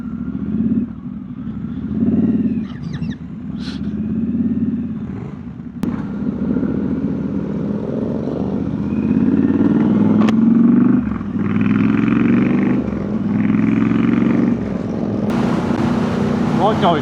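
A Royal Enfield Guerrilla 450 motorcycle on new tyres during a test ride, its engine droning steadily with rising and falling revs, wind rushing past throughout, some faint talk partly over it.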